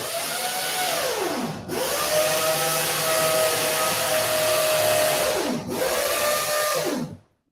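A loud, steady power drill whine runs continuously, dipping briefly twice as it slows and spins back up, then cuts off near the end.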